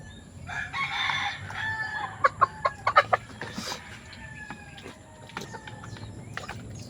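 Backyard rooster crowing nearby, with a string of sharp clucks and calls from other fowl around it, moderately loud over low outdoor background noise.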